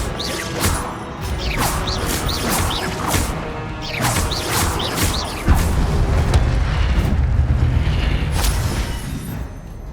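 Incendio fire spell cast repeatedly in Hogwarts Legacy, heard as a string of loud whooshing, crackling blasts with bright bursts and impacts over a dense game soundscape, the thumps growing heavier near the end.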